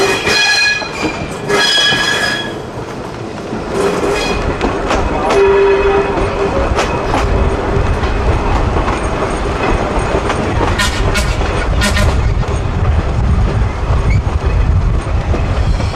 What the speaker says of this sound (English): Let's take another ride on Interurban Car 320 to see more of the Midwest Electric.